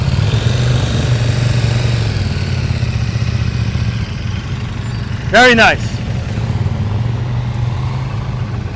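Motorcycle engine running at low speed during advanced slow-speed riding practice, a steady low hum throughout under a coach's voice, with a brief louder tonal sweep partway through.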